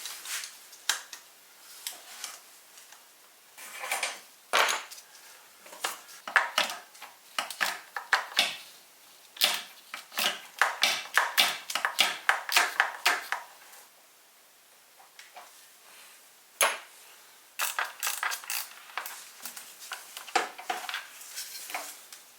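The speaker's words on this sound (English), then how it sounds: "Busting out the ratcheting wrench for the bottom bolts." Rapid metallic clicking of a ratcheting wrench working the lower valve cover bolts on a Lexus LS430, heard in close, loud bursts separated by brief pauses, with no talking.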